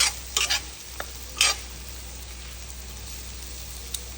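Chunks of elephant foot yam coated in masala are stirred in a pan over a soft, continuous sizzle, with a few sharp scraping strokes of the spatula near the start and then quiet frying.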